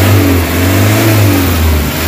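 A Nissan Vanette engine revs loudly up close, a deep throaty roar that swells and eases back repeatedly.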